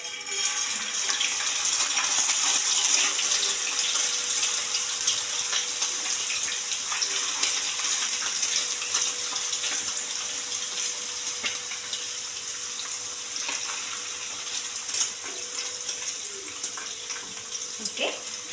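Potato pieces for homemade french fries bubble and hiss in hot oil, a steady, moderately quiet frying wash that runs throughout.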